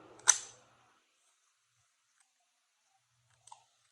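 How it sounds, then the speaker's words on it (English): A Springfield Hellcat pistol has its slide racked to chamber a round, giving one sharp, close metallic clack, followed by silence and a faint small click a few seconds later. "what I'm going to do now is I'm going to rack one into the,"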